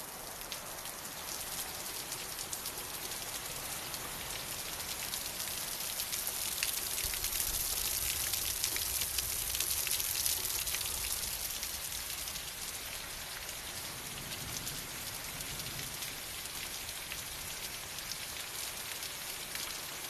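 Steady, heavy rain pours down continuously during a tornado storm, a dense hiss of drops striking surfaces with no voices.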